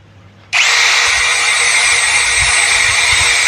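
A Total TCKLI1638 16V cordless drill spins up at speed setting 1, snapping on abruptly into a steady, high, whirring motor whine that holds evenly at close range, alone with no talking.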